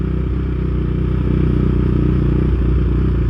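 A KTM 390 Duke motorcycle on a road in Yorkshire drones steadily and loudly at close range, its engine note holding a dense, even rumble throughout with no talk over it.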